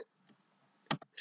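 A command is typed on a computer keyboard during 3D printer controller setup: a few sharp, close key clicks, sparse and uneven, with quiet gaps between them and no talking.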